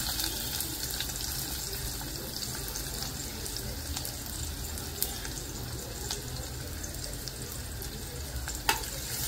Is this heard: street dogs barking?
no